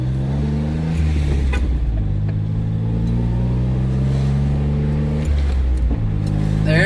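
A Subaru Justy engine revs and drops in pitch as it is shifted through the gears. The drone is steady and close, with harmonics sweeping between shifts.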